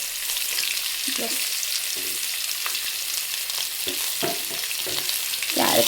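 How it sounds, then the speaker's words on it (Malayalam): Carrots and beans stir-fried with onion in a hot pan: a steady, loud sizzle throughout, with occasional scraping stirs and clinks of a spoon against the pan, close by and without talk. "ഒപ്പം തന്നെ നമ്മുടെ ക്യാരറ്റും പയറും കൂടെ അങ്ങിടാം കേട്ടോ വേവണ്ടേത്"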